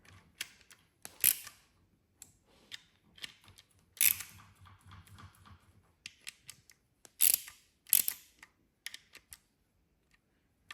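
Tools work on Porsche 911 camshaft fasteners during engine assembly, giving sharp, close metallic clicks and ratcheting ticks in irregular clusters separated by quiet pauses, with no talking.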